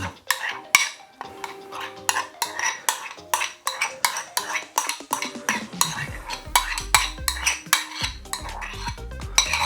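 A spoon scrapes and clinks against a bowl as marinade is spooned over chicken for a homemade doner kebab and mixed in. The sound is close, busy, continuous metallic stirring and tapping.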